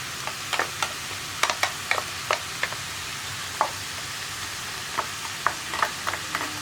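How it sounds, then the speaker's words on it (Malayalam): Cabbage thoran with coconut paste and turmeric stirred in a sizzling pan, a spatula scraping and tapping the metal in scattered sharp clicks over a steady frying hiss. "ഇനി നമുക്കിതൊന്ന് നന്നായിട്ട് ഇളക്കി മിക്സ് ചെയ്യാം."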